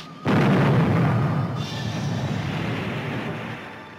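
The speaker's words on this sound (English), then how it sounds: "Shot across their bow. Number one gun, fire!" A ship's cannon fires a broadside in the 1950 pirate film Fortunes of Captain Blood: one loud, heavy blast bursts out, then a long rolling rumble lingers and slowly fades.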